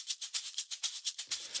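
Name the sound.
shaker sample in a house music track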